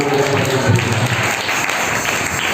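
Continuous applause from a church congregation, a dense wash of clapping that stays even throughout.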